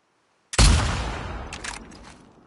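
A single loud rifle shot in The Last of Us Part II cracks out suddenly after silence, then rolls into a long echoing tail that fades slowly with faint scattered rumbles.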